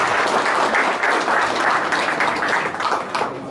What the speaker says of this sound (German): Ein riesen Applaus für den Junge